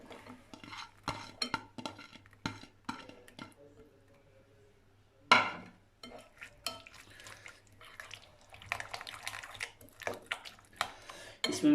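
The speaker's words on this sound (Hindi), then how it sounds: "अब हम इसमें प्याज और टमाटर डाल देंगे।" Onion and tomato added to whisked yogurt in a pan and stirred with a spoon for aloo matar pulao, close-up scraping and clinking of metal against the pan in bursts, with a louder clatter midway.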